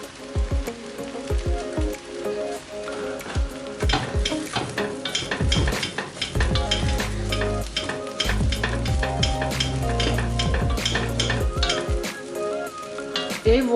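Rice with vegetables stirred in a hot pan, a spoon scraping and clattering in repeated strokes over a steady close sizzle, no voices.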